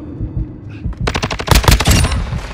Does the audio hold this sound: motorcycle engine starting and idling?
no